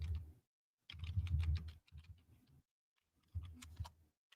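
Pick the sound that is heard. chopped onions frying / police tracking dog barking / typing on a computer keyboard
typing on a computer keyboard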